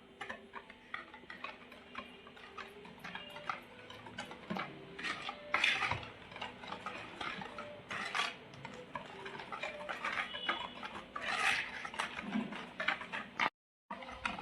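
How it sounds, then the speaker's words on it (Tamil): A spoon or whisk works through cookie batter with a pinch of salt and vanilla essence, quick rhythmic ticking and scraping strokes against the bowl, close and fairly quiet with no talk. "இப்போ நம்ம இதை மிக்ஸ் பண்ணிக்கலாம்."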